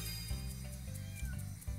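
A cartoon cat meows in the pet-grooming video game Doggie Dash, a short plaintive call heard quietly over looping game music, with no speech.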